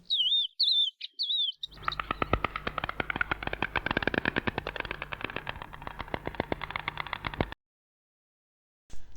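A songbird sings a long, rapid, trilling run of chirps after a few high whistled notes, loud and close, then cuts off into silence before a brief final note.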